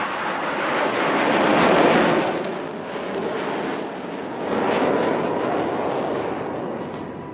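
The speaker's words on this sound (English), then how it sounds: "இப்பொழுது உங்கள் முன்னால் நமது நாட்டின் பெருமை தேஜஸ் உங்கள் முன்னால் வெர்டிகல் சார்லி செய்ய உள்ளார்" A Tejas fighter jet performs a vertical maneuver at an Indian Air Force air show over Marina Beach, Chennai. Its loud, broad roar swells, dips and surges again as it passes, with no talking.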